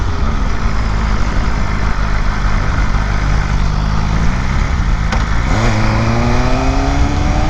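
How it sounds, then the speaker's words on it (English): A BMW M1000RR Streetfighter motorcycle engine: a loud, close, steady rumbling drone that is briefly blipped late in the clip, its pitch dipping and then climbing in a sharp rev before settling into a higher hum. "This is the world's first Streetfighter M1000R, technically."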